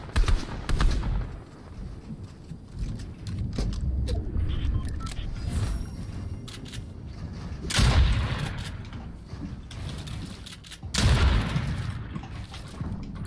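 Video game gunfire during a custom match: scattered sharp shots and bursts, with two heavy, louder volleys standing out near the middle and toward the end.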